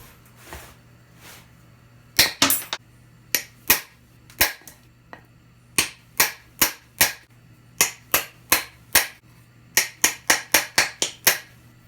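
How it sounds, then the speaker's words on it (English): Sharp, irregular knocks of a hammer striking a chisel to knock waste wood off a turned piece, about twenty crisp blows in quick bursts, close by with no talking. "knock the rest of that off with a hammer and chisel"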